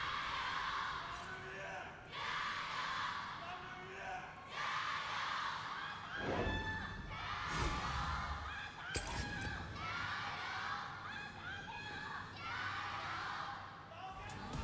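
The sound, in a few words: esports crowd cheering and chanting at LPL match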